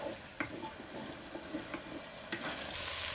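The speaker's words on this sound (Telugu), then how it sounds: "నూనె పైకి వచ్చే వరకు బాగా వేయించుకోవాలన్నమాట" Masala frying in oil in a pan for pesara punugulu curry, a soft, fairly faint continuous sizzle with light stirring taps scattered through it, building slightly louder toward the end, no talk.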